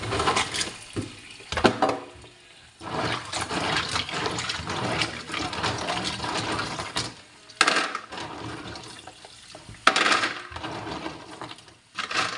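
Clams rinsed under running water at a kitchen sink: a continuous close splash and gurgle of flowing water, with shells clattering and shifting in brief louder bursts.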